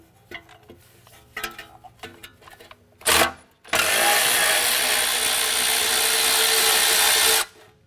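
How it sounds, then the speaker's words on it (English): Working a 10mm socket on the ABS sensor bolt in the knuckle of a 2004-2008 Acura TL begins with scattered clicks and handling knocks, then a loud power tool whirs steadily for about four seconds and stops. "use a 10mm socket. I want to remove this bolt holding our ABS sensor into the back of the knuckle"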